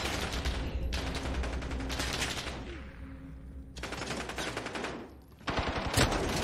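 Sustained automatic gunfire in Modern Warfare's Shoot House map: long rapid bursts rattle loudly and close, broken by short pauses, then end with a few final shots.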